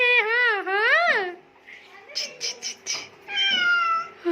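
A cat meows loudly and close by in several drawn-out, wavering cries, its sound rising and falling, while people talk nearby in between the calls.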